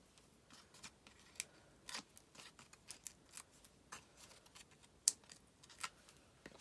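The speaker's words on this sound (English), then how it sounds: "I think I should cut that a little bit short there on that side" Scissors snipping through paper card for a Stampin' Up! card with vellum, heard as faint, scattered crisp cuts in an irregular rhythm, close by and quiet.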